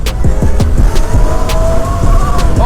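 Sur-Ron electric dirt bike fitted with a Torp TM40Pro 50 kW motor accelerating hard down a straight, a loud close whine rising steadily in pitch amid wind and rough ground noise.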